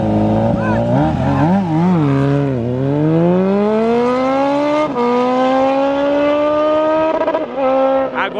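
A Honda CB 1000R and a remapped Yamaha MT-07 in a drag race: powerful engines roar and rev up hard, pitch climbing through gear shifts as they accelerate, loud and close, with a voice speaking briefly underneath.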